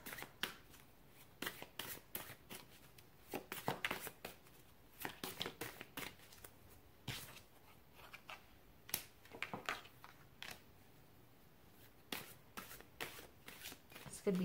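Tarot cards are shuffled by hand in quick, irregular riffling bursts, quiet and close.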